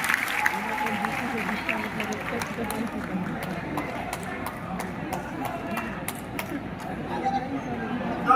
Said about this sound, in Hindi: एक बार बिना कंजूसी के एक बार ताली हो जाती है।